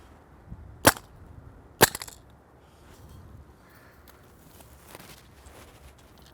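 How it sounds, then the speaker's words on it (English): A paintball marker fires two sharp, loud close-range shots about a second apart, followed by quieter handling noises and faint rustling. "Let's see if it'll hold up with a really close shot of normal paint bullets"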